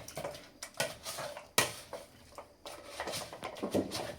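Jaggery being stirred in a pot for wheat kheer, a spoon scraping and knocking against metal in irregular strokes, one sharper clank in the middle, close but fairly quiet with no talk.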